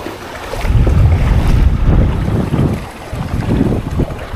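Very strong, gusty wind roars and buffets loudly and close during a flood, rising and falling in continuous heavy waves of rumbling noise with no voices.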